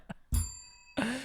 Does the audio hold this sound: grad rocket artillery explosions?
no